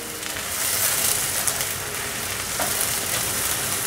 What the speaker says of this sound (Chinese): 放入红萝卜丝，给 它翻炒均匀